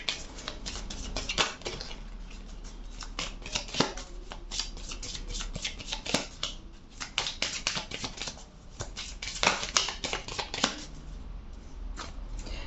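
Tarot cards being shuffled and riffled in a steady run of crisp, papery flicks and snaps, close and fairly loud, continuing without pause and with no voice over them.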